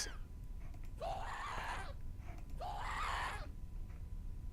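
A ghast from Minecraft, the floating fire-spitting mob, lets out two long wailing screams in the Animal Bikes mod, each a rising, warbling cry about a second and a half long, loud and close with a short gap between them.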